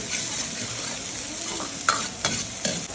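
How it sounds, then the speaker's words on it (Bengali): Beans, carrots and peas sizzle in a hot pan while a utensil stirs and scrapes, with a few clattering knocks toward the end and no talking. "ভেজ সবজিটা কিভাবে ভাজা হচ্ছে"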